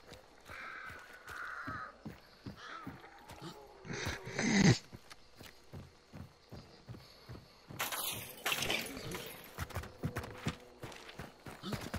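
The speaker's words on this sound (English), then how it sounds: "There's dogs right there." Dogs bark and growl in a video game, sharp repeated barks at moderate distance over a rhythmic background, with a couple of louder bursts.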